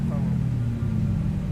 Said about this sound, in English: Wow, the engine sounds are really nice.